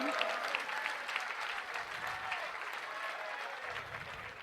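Applause from a gathering at a Jain religious ceremony in Bhopal welcoming the speaker, a steady wash of clapping from many hands, fairly faint and distant, lasting the full few seconds.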